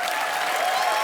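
Studio audience applause on The Kapil Sharma Show, a dense, loud burst of clapping from a crowd, steady for about a second.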